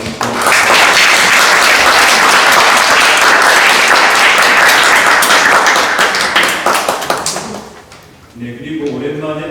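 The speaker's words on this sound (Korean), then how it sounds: "박수와 함께" Congregation applause welcoming a visitor at a Sunday church service in Vienna: dense, loud clapping fills the room for about eight seconds, then thins out as a voice begins speaking.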